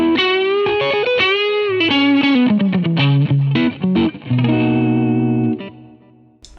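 Electric guitar played through Positive Grid Bias FX with amp reverb and delay, a distorted, effects-laden melodic line with sustained notes and echoing tails, loud and alone.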